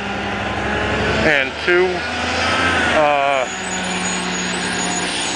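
A motorcycle engine drones steadily while riding, with wind noise and a rider's voice talking over it for stretches.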